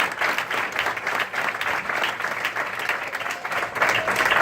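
A church congregation claps during a Spanish-language service, a close, dense burst of applause with slight pulsing rhythm and some voices mixed in.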